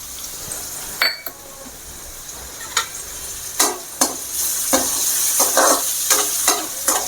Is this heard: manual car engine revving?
no